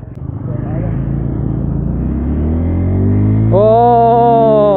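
A Bajaj Pulsar N250 motorcycle is ridden on the Yamuna Expressway, its engine note rising steadily through the revs and then jumping to a higher, sustained whine at speed, loud and close with wind rumble.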